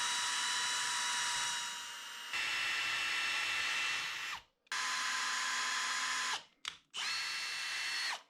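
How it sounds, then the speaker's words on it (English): A power drill whines steadily in several bursts while drilling pilot holes in thick plastic, pausing briefly between them, close and loud, with no talking. "it's time to go ahead and drill some pilot holes"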